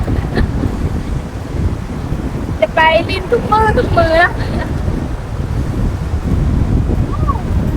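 Wind and sea waves at Bang Saen beach in Thailand form a constant loud roar with heavy wind buffeting on the microphone, while people talk and a voice sings briefly over it.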